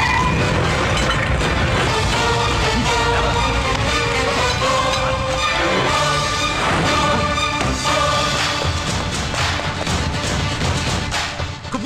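Loud, dense crashing and booming from a bomb blast in a Telugu action film scene, sustained rumbling debris and shattering layered with music for the whole stretch.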